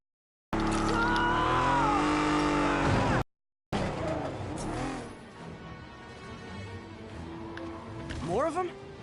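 Video game car chase in Marvel's Spider-Man on PS4, with loud engine roar, revving and passing cars at close range, a brief dropout midway, then rushing traffic noise and a sharp rising whoosh near the end.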